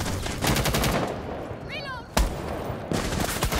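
Rapid automatic gunfire from the Rainbow Six Siege video game crackles in repeated bursts with a sharp single shot midway, mixed with game effects while players talk over it.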